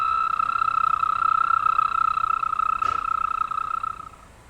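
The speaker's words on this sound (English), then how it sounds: "One of the sounds of spring is the peeper frog." Spring peeper frogs calling, a dense steady chorus of high, thin, piping peeps holding on and on before fading out near the end, with one brief broadband click partway through.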